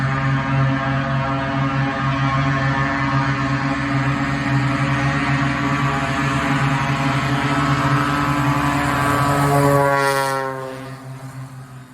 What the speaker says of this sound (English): the Cessna 180 makes the very distinct sound of the propeller tips breaking the speed of sound as they rotate at that RPM and diameter